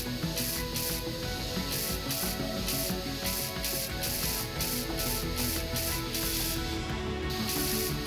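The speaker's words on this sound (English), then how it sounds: "Just need to cover the entire thing with finalized welding." In a ship-building video game, a welding tool works over ship blocks with a continuous hissing, rasping buzz broken by regular rhythmic pulses. The sound is steady and moderately loud, with no voices.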